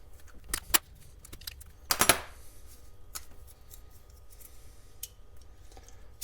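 Glock magazine baseplate being removed with a tool, small metallic clicks and scrapes scattered over quiet handling noise, with one louder cluster of clicks in the middle.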